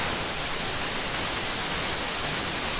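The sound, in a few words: synthesized white noise in music production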